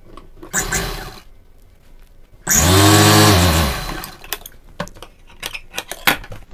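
A sewing machine stitches folded fabric for a collar-neck blouse in two bursts, a short run followed by a longer whirring run, with light clicks of handling between and after.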